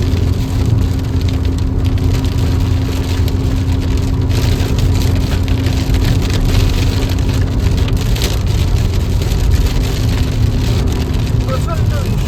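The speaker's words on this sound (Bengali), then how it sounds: "প্রচন্ড বৃষ্টি।" Heavy rain drums on a car during a road trip from Varanasi toward Deoghar in a hailstorm, a loud, dense, unbroken roar of drops on the body and glass with road noise underneath.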